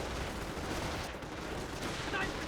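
Gunfire in Company of Heroes 1, dense overlapping bursts of small-arms shots forming a continuous rattling clatter, moderately loud with no clear pauses.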